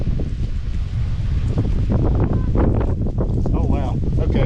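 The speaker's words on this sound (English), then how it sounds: "that's some loud wind" Loud, steady wind buffets the microphone at an outdoor U.S. Cavalry site during metal detecting, a constant low roaring rumble with gusty surges and a voice speaking briefly underneath.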